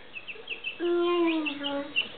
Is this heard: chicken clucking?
yes